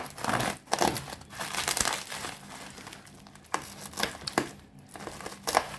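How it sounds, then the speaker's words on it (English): Bubble wrap around a laser-cut 3mm acrylic package being pulled and unwrapped, close crinkling and rustling bursts with brief pauses between handfuls. "why waste cardboard on something like this when you can just wrap it in tons of impossible to get through bubble wrap"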